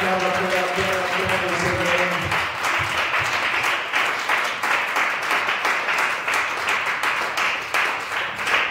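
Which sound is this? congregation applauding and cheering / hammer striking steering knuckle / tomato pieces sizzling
congregation applauding and cheering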